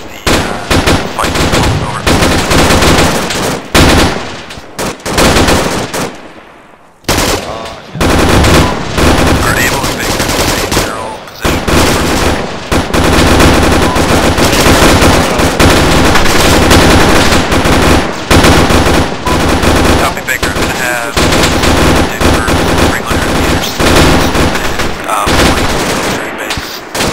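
Sustained, loud automatic machine-gun fire in Arma 3 rattles almost continuously in long bursts, with a brief lull partway through, dense and close.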